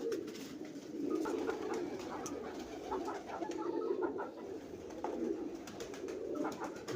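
A pair of teddy pigeons coos steadily and close by, soft repeated rolling coos layered over a constant background hum, with no talking.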